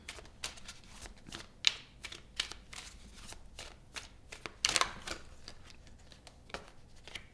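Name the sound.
tarot cards being shuffled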